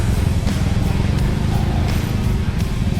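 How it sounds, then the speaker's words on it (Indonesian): Motorcycle with a standard exhaust idling up close with an odd note, a loud, steady low rumble with faint irregular ticks over it. "Itu ada suara, ada yang sedikit unik coy, suara motornya coy."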